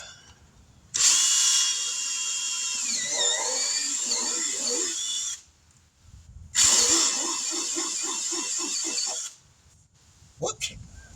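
A power drill whines at high speed while boring into a 2011 Jeep Liberty tire, two sustained bursts of several seconds each with wavering pitch, separated by a pause with faint talk.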